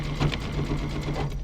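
A sewing machine stitches a quilt-as-you-go zipper cosmetic bag forward and then in reverse, a steady close whirring motor hum with a faint rapid needle patter.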